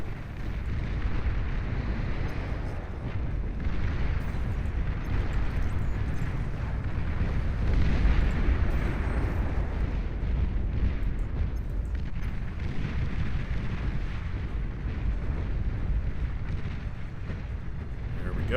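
Artillery shelling the coast in the strategy game Beyond All Reason, a dense continuous roar of overlapping rumbling explosions that stays loud and steady throughout, with no clear gaps between blasts.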